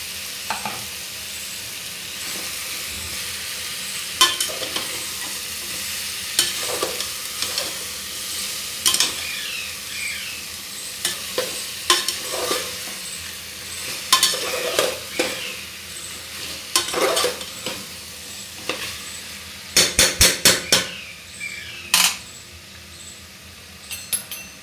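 Shrimp sizzle steadily in a hot pan on low flame, with repeated sharp scrapes and clacks of a spoon stirring them at irregular intervals, close and fairly loud, growing busier near the end.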